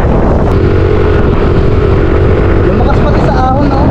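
A Yamaha Aerox 155 V2 scooter fitted with 11 gram flyballs is running on the road, its engine droning loud and close under heavy wind buffeting, the pitch shifting near the end.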